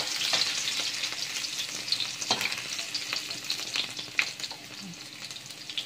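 Squid and salted egg stir-fry in hot oil, giving a loud continuous sizzle broken by the clatter of a spatula tossing the mix in the pan.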